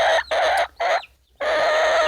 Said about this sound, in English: these are my new chicks. I scored some new chicks